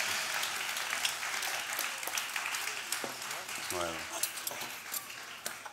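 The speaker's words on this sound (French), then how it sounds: "on applaudit Philippe Redon" An audience at a cooking event in Limoges applauds a chef, scattered claps under a steady crowd murmur, with a voice briefly cutting in near the middle and a bright ping-like tone here and there.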